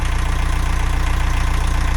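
A narrowboat engine idles steadily while warming up before an oil change, a close, even low chugging with a regular knocking pulse throughout.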